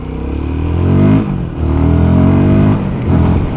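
A Royal Enfield Guerrilla 450 motorcycle accelerates hard up close, its engine note rising in loud, steady pitch sweeps with a brief dip between pulls.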